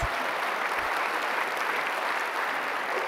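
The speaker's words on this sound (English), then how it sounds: "Another round of applause for our Solver teams, please, and our Indigenous Communities Fellows." Steady, dense round of audience applause for Solver teams and Indigenous Communities Fellows at Solve at MIT 2019, a broad even wash of clapping filling the room with no voices over it.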